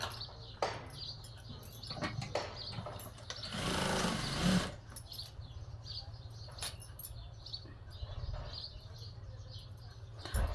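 A sewing machine stitches a blouse seam from the inside, a steady low mechanical hum with a louder burst of rapid stitching around the middle, sparse clicks and faint birds in a quiet room.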